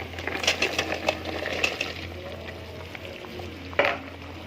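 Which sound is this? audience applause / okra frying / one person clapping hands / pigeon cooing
okra frying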